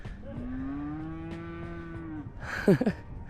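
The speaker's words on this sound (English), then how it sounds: "I have no idea where that cow came" A cow moos once on a hiking trail in Ecuador, a long, loud, drawn-out low call from nearby, followed by a brief clatter of other noise near the end.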